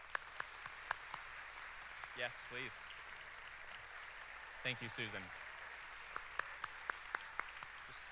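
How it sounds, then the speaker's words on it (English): At an award ceremony honoring a children's advocate, a small audience claps sparsely in scattered, distinct hand claps that fade out while people speak briefly. "Let's give Susan a round of applause."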